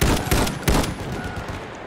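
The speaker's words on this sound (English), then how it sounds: "Enemy machine gun over there." Rapid bursts of gunfire crackle in Battlefield 1, a dense fusillade of enemy machine gun shots, loud and close, filling the whole moment without talk.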